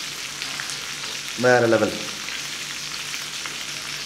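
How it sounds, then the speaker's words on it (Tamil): Chicken sizzles and fries in a pan during preparation of Arabian chicken mandi biryani, a steady hiss under the room, with a short spoken exclamation over it. "இப்போ இங்கே ஃப்ரை பண்ணிகிட்ருக்கோம்"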